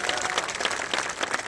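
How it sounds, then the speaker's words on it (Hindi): Applause from an audience at an event, a dense steady patter of many hands clapping throughout, fairly loud and with no talk over it. "ताली तो बजा दो यार,"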